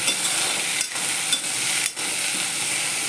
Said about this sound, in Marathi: अशीच परतू द्यायची झाकण न ठेवता